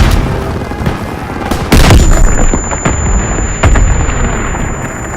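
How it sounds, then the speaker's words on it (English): Grenade blast and gunfire on a World War II battlefield in Call of Duty WWII, loud explosive booms and rapid shots crackling close by amid constant battle noise. "Tossing out a grenade!"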